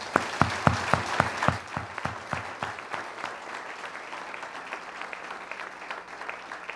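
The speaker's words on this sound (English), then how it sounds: "Let's give them a round of applause." An audience at a mayor's budget address gives a round of applause: crisp, close clapping that starts dense and rhythmic, then thins into scattered, fading claps.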